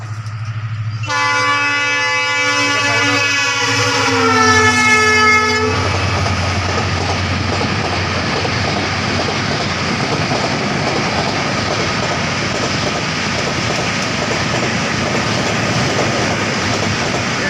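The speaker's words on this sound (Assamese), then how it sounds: "এইটো বাহিৰৰ পৰা আহে ট্ৰেইনটো" A train horn sounds loudly for several seconds, then a train rumbles steadily past close by, a continuous broad roar of wheels and cars.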